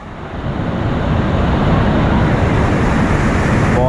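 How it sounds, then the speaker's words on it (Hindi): A powerful waterfall at Maldevta near Dehradun roars loudly and continuously after rainy weather, as a dense rushing wash of falling water that swells in the first second, then holds steady with no talking. "जो वाटरफॉल है, आवाज़ से तो पता चल ही गया होगा कि बहुत तेज़ है"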